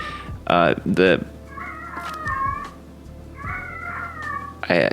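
A cat meows close by: two quick, loud meows, then a pair of drawn-out, wavering cries, and a final sharp meow at the end, with a person's voice also present.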